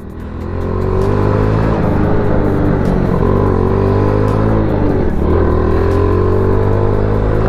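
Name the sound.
motorcycle engine revving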